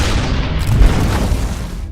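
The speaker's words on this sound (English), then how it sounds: "They're really launching the artillery on us." Heavy artillery explosions from a World War II battle in North Africa, with German Panzer tanks attacking American defenses, forming a dense continuous roar of booms and low rumble that swells around the middle and stays loud throughout.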